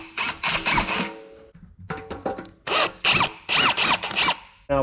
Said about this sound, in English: I'm just going to take my drill and I'm going to drill these holes out